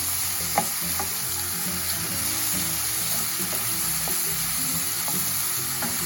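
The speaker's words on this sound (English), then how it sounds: "We'll add our garlic. ahead and just stir those up and let that continue to cook down." Garlic and mushrooms sizzle steadily in a hot pan, with soft scraping clicks of a utensil stirring them now and then; close and continuous, no talking.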